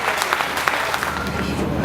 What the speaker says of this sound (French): Et allez, et des applaudissements nourris